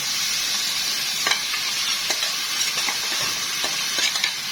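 Vegetables fry in a pan with tomato sauce as they are stirred, giving a steady close sizzle broken by soft scraping strokes.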